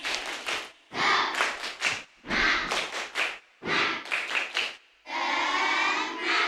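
A classroom of elementary school children does the spirit clap, a chant-like rhythmic routine of loud group claps in short patterned bursts with brief pauses between phrases, ending in a sustained burst of clapping.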